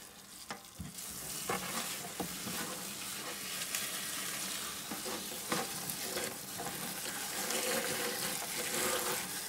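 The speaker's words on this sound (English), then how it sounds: "I'm going to soak it and squeeze out all the excess" Moss soaking in water and being squeezed out for fig tree cutting propagation makes a steady close wet rustling and trickling wash that runs continuously with small splashy peaks, no voices.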